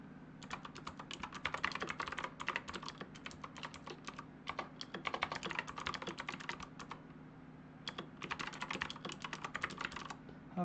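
Rapid bursts of typing on a computer keyboard while entering a footnote in a Hangul word processor, with busy runs of close, crisp keystrokes and short pauses between them, and no talk.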